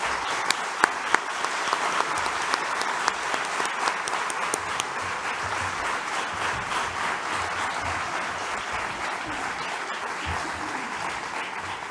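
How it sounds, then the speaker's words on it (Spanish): Sustained audience applause fills a hall at a suicide-awareness conference session, dense even clapping from a sizeable crowd with a few crisp nearby claps at the start, continuing steadily throughout. "yo sí que pido el aplauso para él"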